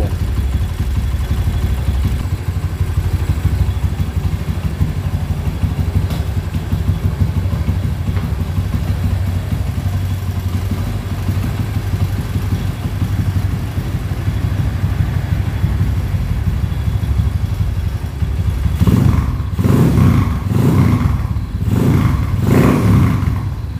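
A Honda CB motorcycle engine idling after a rebuild, a continuous low rumbling chug with mechanical clatter, and a few louder revving pulses near the end, close by.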